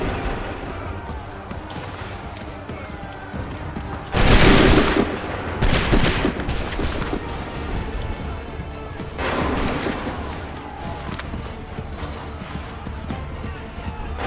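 Musket volley fire in Assassin's Creed III, with a broad burst of massed shots around the middle, a second rougher burst of scattered reports, and a later volley, all set over a steady battlefield din and shouted orders.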